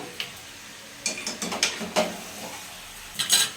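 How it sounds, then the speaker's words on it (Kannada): Chicken fries in a pan with turmeric powder. A soft sizzle sits under a run of clattering, scraping stirs as a utensil knocks against the pan in short bursts. "ಇದ್ರ ಜೊತೆಗೆ ಸ್ವಲ್ಪ ಅರಿಶಿನ ಪೌಡರ್ ಹಾಕ್ಕೊಂಡು ಇದನ್ನು ಚೆನ್ನಾಗಿ ಫ್ರೈ ಮಾಡ್ಕೊಳ್ಳೋಣ"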